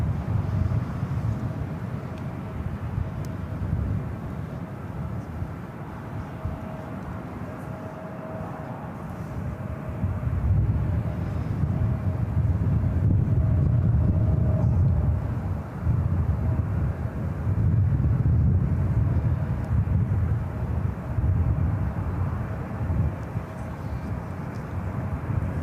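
An airplane rolls for takeoff on runway 28 left at San Francisco International Airport, a steady low roar that swells and holds loud through the middle, with wind noise over a distant, continuous rumble.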